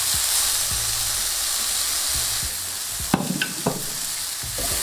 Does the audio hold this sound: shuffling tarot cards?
no